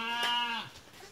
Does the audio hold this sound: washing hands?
no